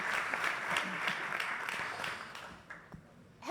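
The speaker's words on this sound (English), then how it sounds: "can we give our panel a round of applause," Audience applause for a panel at a summit in New York City, a steady broadband patter of many hands clapping that holds for a few seconds and then thins and fades toward the end.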